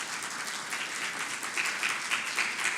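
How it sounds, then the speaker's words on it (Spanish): Applause from a church congregation, fairly soft and distant at first, then swelling with distinct bursts of clapping toward the end. "Denle una ofrenda de palmas a Dios."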